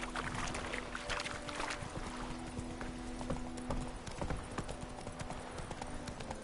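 Horse hooves clip-clop steadily in The Witcher 3, a rhythmic run of sharp clops moving at a trot, heard fairly close against a low continuous background.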